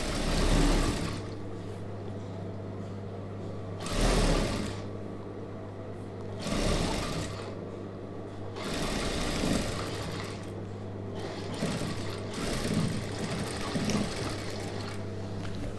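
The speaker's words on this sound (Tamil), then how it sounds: "இப்போ திருப்பிட்டு அதே ஒரு 1/2 இன்ச்சு அளவுக்கு அப்படியே தையல் அடிச்சுட்டு வந்துடலாம்." An Usha sewing machine runs steadily while stitching a star-neck chudidhar, its close, even motor hum and needle chatter broken by a few louder bursts of fabric handling, with no talking.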